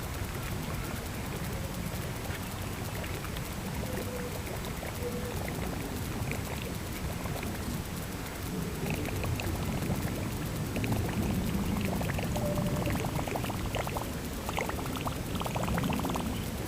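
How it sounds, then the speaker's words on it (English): A Whopper Plopper topwater fishing lure, its tail fitted with replacement trebles, churns and splashes steadily across the water surface in a continuous, fairly close sloshing rush with no break. "The tail is making all that noise."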